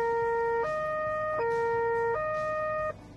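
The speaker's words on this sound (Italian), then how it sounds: "da qui si comandano le mirabolanti luci a LED sul tetto e soprattutto la sirena" Two-tone police siren on a Carabinieri Alfa Romeo Giulia Quadrifoglio, alternating high and low pitches in even steps about every three quarters of a second. It sounds loud and close, then cuts off.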